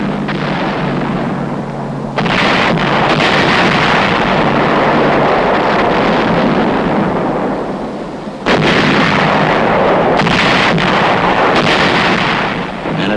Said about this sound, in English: Only our big guns could reach that heavily fortified little island.